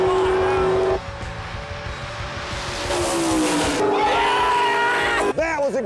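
Race cars roar at Infineon Raceway during a street-car race, engines holding loud sustained tones that shift in pitch as they accelerate and pass, with crowd noise and a voice talking over them.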